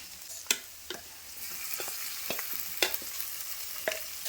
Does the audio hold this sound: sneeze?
no